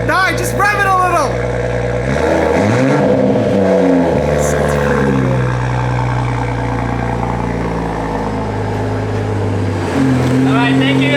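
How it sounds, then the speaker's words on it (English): A Toyota Supra engine after a cold start, running close and loud while the revs rise and fall through several sweeping blips, with a steady rumble underneath. "Just rev it a little"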